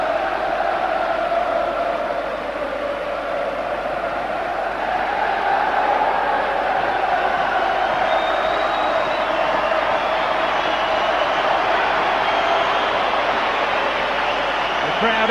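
Loud, continuous roar of a packed Anfield stadium crowd as Liverpool players emerge for a 1998 pre-season friendly against Inter Milan, swelling and sustained throughout with cheering and whistles rising in the second half.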